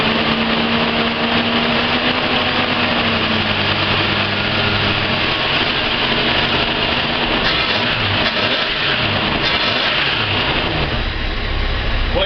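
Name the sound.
Ford XE Falcon engine cold start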